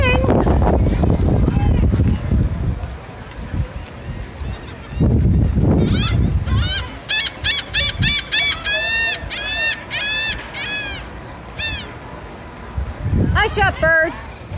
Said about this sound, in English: Hush up, bird.